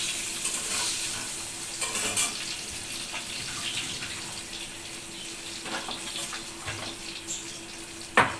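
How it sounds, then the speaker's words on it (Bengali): Potatoes frying and being stirred in a pan, giving a steady close sizzle with scraping stir strokes scattered throughout and a sharper clatter near the end. "আলুটাও লাল লাল করে ভাজবো"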